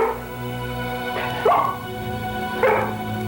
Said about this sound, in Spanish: Después buscó la atención de Liz y finalmente comenzó a ladrar